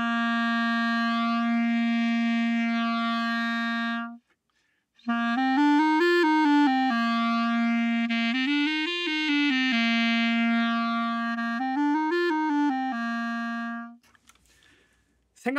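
Clarinet played at different angles to compare tone: a long held note, then after a short pause a rising and falling melodic run of sustained notes, close and loud, closing on a held note and a soft click.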